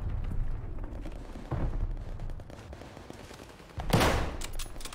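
Gunfire in the shooter game Call of Duty: Vanguard, with rapid bursts and scattered shots and a louder blast near the end, all moderately close.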